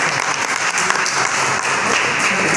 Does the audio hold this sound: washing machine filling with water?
no